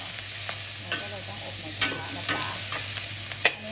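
Shrimp with coriander root stir-fry in a pan, giving a steady low sizzle broken by several sharp scrapes and clanks of a utensil against the pan, close by with no talk.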